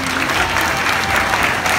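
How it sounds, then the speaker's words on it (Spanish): A crowd applauds at the opening of a school breakfast hall in Camargo, with dense, loud, continuous clapping and no break. "Fuerte el aplauso."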